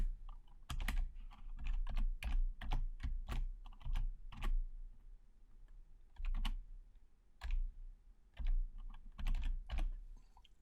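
Keys clatter on a computer keyboard in irregular bursts, with heavier thumps of the space bar between words, close-up and fairly quiet with brief pauses between groups of strokes.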